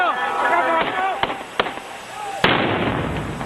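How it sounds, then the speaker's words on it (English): Gunshots ring out amid a crowd at a political rally, three sharp cracks followed by a large suicide bomb blast, loud and close, with crowd shouting and voices throughout. "The last bang is that of the suicide bomber, blowing himself up."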